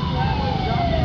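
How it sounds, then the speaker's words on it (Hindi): Ambulance siren wailing loud and steady in a jammed road during the Covid-19 period, filling the whole moment with a continuous rising-falling tone amid traffic noise. "एम्बुलेंस जो है वो यहाँ पर निकल रही है, आप देखें।"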